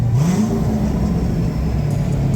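Engine of a twin-turbo Corvette Z06, a close, loud mid-pitched drone whose tone rises and dips as it revs, with no talking.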